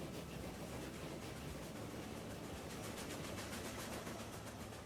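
Steady rumbling rail noise of a train pulling in inside the Transport Fever 2 game, a constant broadband roar with faint rhythmic clatter continuing evenly throughout, with no talking.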